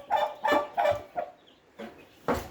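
A turkey gobbles in a rapid series of loud, throaty calls in quick bursts, close up, with brief pauses between them and no talking.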